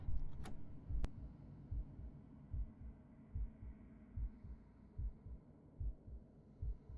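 A strong, steady heartbeat from the horror game The Hunt Begins thumps in regular low double pulses, roughly one every second, under a faint ambient hum with no talking.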